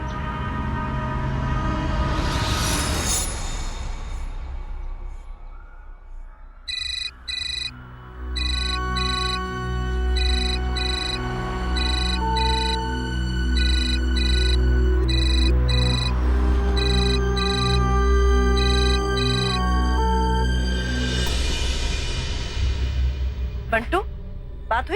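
A telephone rings unanswered, a repeating electronic ringtone in steady bursts that continues for a long stretch, with speech and background noise around it.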